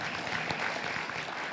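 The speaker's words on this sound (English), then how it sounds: "Let's give Brent a round of applause." Brief burst of audience applause for a colleague at an awards gathering, steady dense clapping throughout at moderate level with no voices.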